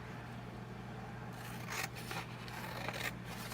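Scissors cut paper for a Stampin' Up! box, with a few faint, close snips and scraping slices over a low steady hum.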